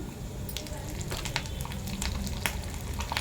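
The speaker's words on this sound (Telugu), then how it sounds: "కరివేపాకు వేసుకుందాము" Curry leaves with garlic sizzle and crackle in hot oil for a pumpkin and ginger chutney, a steady close frying hiss with sharp popping bursts throughout and no talk.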